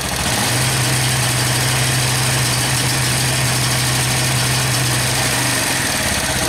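A Suzuki TU 250 X motorcycle engine running rough, a loud, dense, rattling idle whose low hum rises and holds as throttle is applied, then sags back near the end, close and without talk.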